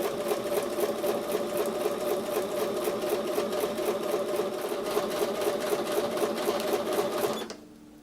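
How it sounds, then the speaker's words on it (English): A sewing machine stitches steadily along drawn lines on a quilt block, its fast, even mechanical whir running loud and close for about seven seconds before it stops abruptly. "I'm going to take that over to the sewing machine and sew on top of the drawn lines."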